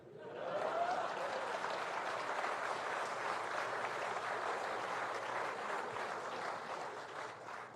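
Sustained applause from a large audience at a political speech in India, a dense, steady wash of clapping that holds at an even level throughout.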